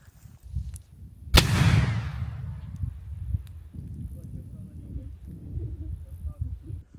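A hand grenade, RGO-1 type, detonates in a single sharp, loud blast outdoors with a quick decaying rumble, then people talk over quiet background afterward.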